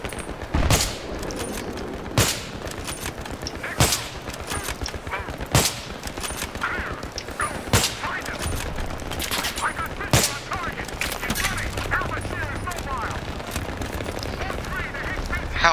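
Machine gun fire in the video game Battlefield 3 rattles steadily through a busy battle soundscape, cut by sharp louder single shots every couple of seconds amid background noise and occasional voices.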